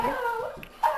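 A pet dog gives a close, high whimpering howl that rises and wavers, breaking into a sharper yelp at the end, while people cheer it on to dance.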